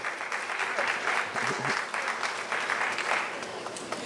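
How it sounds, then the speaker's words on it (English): Audience at a teachers' association annual convention in Trinidad and Tobago claps steadily, a full room of hands producing a continuous, moderately loud round of applause that holds evenly for several seconds. "Men, you can clap too, you know."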